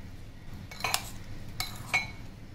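A spoon scrapes and clinks against a bowl while chaat masala and spices are mixed into a potato sandwich filling, giving three short, fairly faint metallic taps over a quiet background.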